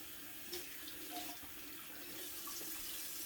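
Lukewarm water streams steadily from a kitchen tap into a sink while dishes are washed, a soft continuous hiss with faint clinks, fairly close and without talk.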